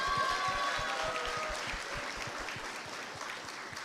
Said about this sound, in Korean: 이정우 선생님 큰 박수 부탁드리겠습니다